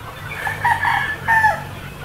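A young rooster, a healthy stag, crows twice in close succession, with a few clucks in between. The calls are loud and close over a low background hum.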